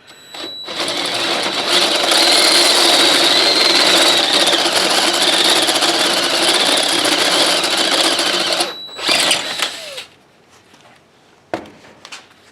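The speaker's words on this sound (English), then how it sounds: "Now what I want to do is drill it to the 3/8 size for now" A power drill bores a 3/8-inch hole through steel plate for a homemade transmission cross member, a loud, steady whining grind lasting several seconds before winding down, followed by a couple of brief clatters.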